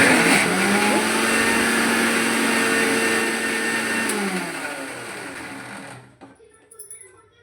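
An electric mixer grinder whirs loudly while grinding green chillies, ginger and cowpeas into a coarse vada batter, then winds down and stops near the end, leaving faint clicks.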